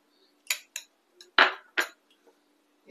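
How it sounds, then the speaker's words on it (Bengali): A spoon clinking against a bowl while cornflour is stirred into a mixture, a few sharp separate metallic taps and scrapes in an irregular rhythm, close and clear against a quiet background. "কর্নফ্লাওয়ারটা মিক্স করবো এতে।"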